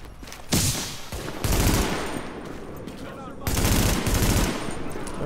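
Weapon fire in The Division comes in three loud bursts of rapid automatic shots separated by brief lulls, close and punchy against a noisy game background.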